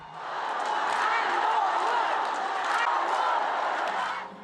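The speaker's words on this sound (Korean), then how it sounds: "한동훈 전 대표가 지지자들의 환호 속에 단상에 오릅니다." Supporters cheer and clap in a crowded hall as a former party leader takes the stage at a political event, a dense, loud roar of voices and applause rising quickly and holding before fading out.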